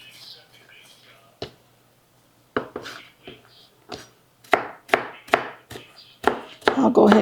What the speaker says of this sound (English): I'll go ahead and chop this up a little bit more to put in there with our mushrooms.